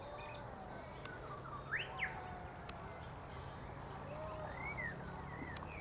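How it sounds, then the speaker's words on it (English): A red wattlebird calls from some distance in a garden, giving a few faint, short rising and falling notes over a steady low background hum, with sharp clicks scattered through. "That's the red wattle bird."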